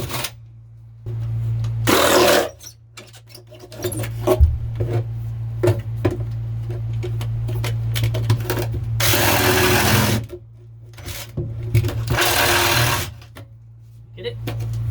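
A drill bores through wood and fiberglass over foam aboard a small boat, coming in a few loud, close bursts separated by quieter stretches with people talking.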